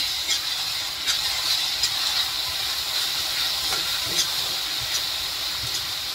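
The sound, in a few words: masala sizzling as it is roasted in oil for paneer gravy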